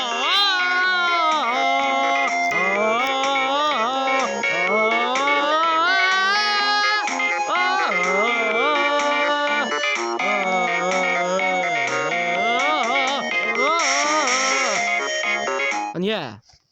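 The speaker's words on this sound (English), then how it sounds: "So those are the ringtones by LG" Several LG phone ringtones play back to back, a continuous bright electronic melody with shifting tonal lines, loud and steady throughout before cutting off sharply at the end.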